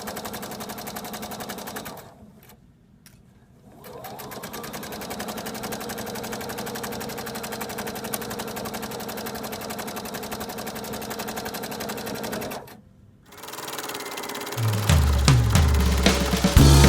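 A sewing machine stitches fabric for a circular placemat, running in a close, loud, rapid mechanical rattle that stops briefly twice and then starts again, with no talking.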